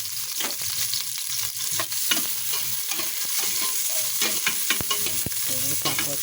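Garlic sautéed in a hot wok for sinigang, a steady sizzle and crackle with repeated scraping and clacking strokes from stirring, close and continuous with no talking.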